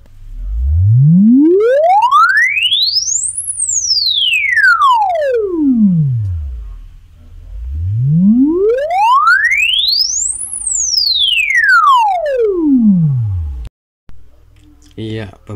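A pure electronic test tone from an audio generator app, played through a repaired loudspeaker, sweeps smoothly up in pitch and back down, twice in a row, loud and clean with faint background noise.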